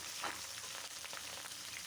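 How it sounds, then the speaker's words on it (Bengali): Onions sizzle and fry steadily in hot oil with garam masala, a continuous close crackling hiss with a few brief louder pops, no voices. "পেঁয়াজ দিয়ে দিলাম তেলে"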